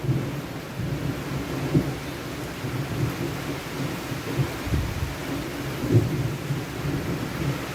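Thunderstorm in the countryside with rumbling thunder rolling through steady rain, low booms swelling at intervals over constant rainfall and wind, fairly loud and close with no voices.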